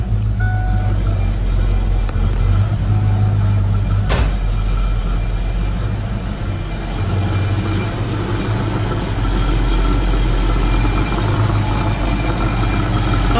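A 1987 Ford Mustang GT 5.0 V8 idles loud and close with a steady low rumble, a faint rattle riding on the engine drone throughout, no speech over it.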